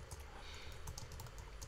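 Fingers type on a computer keyboard in a steady, quick patter of light clicks, close and fairly quiet, with no voices.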